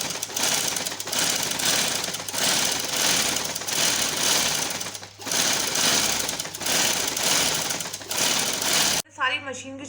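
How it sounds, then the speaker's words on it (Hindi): A sewing machine stitches pleats into a homemade machine cover in a long steady whirring run with brief slowdowns, cutting off abruptly near the end; a voice is faintly present. "मैं इस वक्त मशीन की चूने डाल रही हूँ।"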